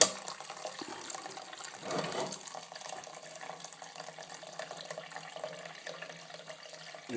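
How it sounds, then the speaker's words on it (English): Tap water runs steadily into a pot for oatmeal, a constant close hiss with a brief louder surge near the two-second mark, no talking. "Then put in water enough to boil the oats most of the way."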